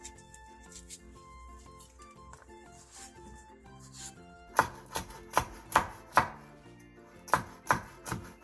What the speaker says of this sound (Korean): 청양 홍고추를 길게 반으로 가른 뒤 어슷썰기 해주세요